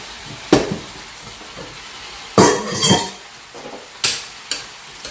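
Indomie noodles go into a hot skillet with sharp sizzling bursts, followed by several clattering stirs and utensil scrapes against the pan, close and distinct over a steady low frying hiss.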